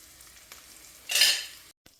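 Chopped onions browning in a hot pan for a chili con carne gratin, with a burst of sizzling as they are stirred, loud and close, then quickly cutting off.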